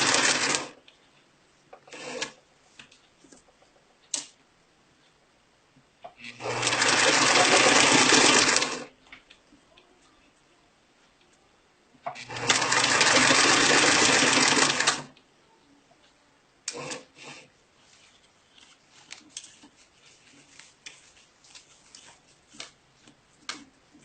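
Sewing machine stitching an invisible zipper into a seam, two loud sustained runs of about two and a half seconds each, separated by quiet pauses filled with soft handling clicks and pin removal.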